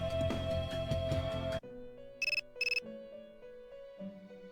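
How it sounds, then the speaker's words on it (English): A cell phone ringtone from the Persona video game plays two quick trilling bursts over a soft, sustained musical background, after a louder stretch of game music cuts off. "Your cell phone is ringing."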